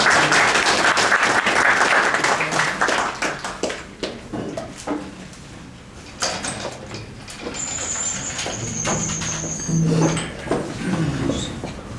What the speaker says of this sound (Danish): Skal vi ikke give Orla en klap